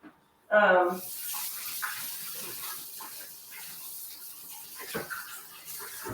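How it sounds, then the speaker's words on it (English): Tap water rushes in a steady stream as a soup ladle is rinsed at a kitchen sink, starting abruptly and loud, then settling into a continuous gush with small splashes and some talking underneath. "let's get that ladle away and rinse because I'm going to check my other soup with it"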